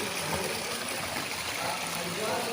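Water pouring steadily from many outlets at Bakreshwar makes a close, continuous broadband rush and splash with no clear breaks.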